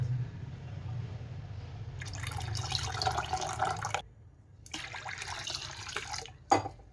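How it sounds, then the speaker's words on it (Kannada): Water pours into a pot of dal in two stretches separated by a brief pause, with a low background hum and a sharp clink at the end. "ಇನ್ನು ಸ್ವಲ್ಪ ನೀರು ಹಾಕ್ತೀನಿ ಇದಕ್ಕೆ"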